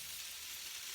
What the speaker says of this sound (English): Saute away there.